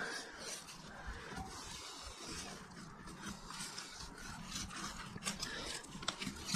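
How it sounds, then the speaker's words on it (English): A knife works backwards and forwards along fish skin while filleting a beach-caught fish, giving a faint, uneven scraping and rasping that continues for several seconds with small louder scuffs, heard close up with no talk. "Knife backwards and forward, run along the skin"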